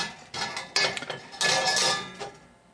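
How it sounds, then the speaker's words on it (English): A 12-inch Tools of the Trade stainless steel saute pan is handled, giving a string of close, bright metallic clanks and scrapes in quick irregular bursts, with no talking. "This is a 12-inch Tools of the Trade saute pan."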